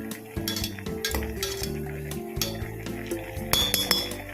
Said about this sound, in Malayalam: ഇടയ്ക്ക് മൂടി തുറന്നിട്ട് ഇളക്കി കൊടുക്കണേ.